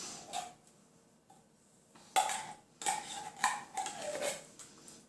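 A big spoon scrapes cream of mushroom soup out of a standard 10-ounce can, giving faint metallic clinks and scrapes at first, then louder, closer bursts of knocking and scraping in the quiet.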